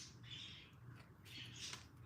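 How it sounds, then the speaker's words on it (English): Birds squawk and chirp outdoors in short, harsh calls, faint and distant against a steady low hum. "Birds are going at it again."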